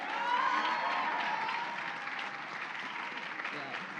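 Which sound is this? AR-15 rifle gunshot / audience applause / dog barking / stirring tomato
audience applause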